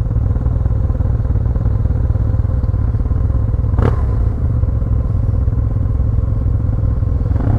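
Yamaha TMAX 530 scooter from 2015 with a full Malossi kit, its engine running in a continuous loud low drone with one sharp clatter or thump midway, close up, as for a wheelie.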